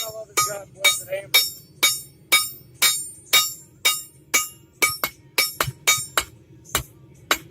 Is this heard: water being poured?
no